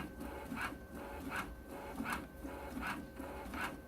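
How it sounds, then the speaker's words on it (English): An HP Designjet 430 printer prints calibration lines, its carriage sweeping back and forth in a quiet, regular rubbing shuttle roughly every 0.7 seconds against a low mechanical hum. "Must be printing those jagged lines. We're getting a print out here."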